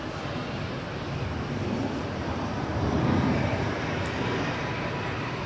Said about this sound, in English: looks like 737 Delta Airlines heading to the regional terminal here